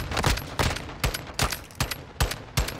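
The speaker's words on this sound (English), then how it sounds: "Just had to bring out the god gun." Rapid gunfire from a weapon in Modern Warfare 2, firing about eight sharp, evenly spaced shots in quick succession, loud and close, with no talking over it.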